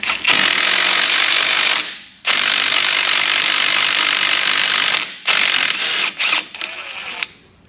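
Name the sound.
removing the tie rod and axle nut on a 2018 Jeep Wrangler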